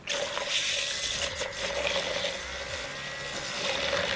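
An electronic makeup brush cleaner whirs steadily as it spins a brush in soapy water, giving a constant motor hum with sloshing, splashing water close by and no talking.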